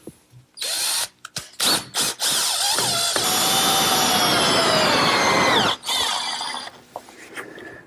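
A power drill drives 1 5/8-inch exterior screws into wood for a flower stand, with repeated whirring bursts that build into one long, loud sustained run before stopping, then brief short pulses follow.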